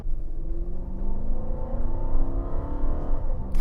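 A high-mileage Toyota Land Cruiser engine running smoothly nearby, a steady low hum with a gently rising whir that stays even throughout.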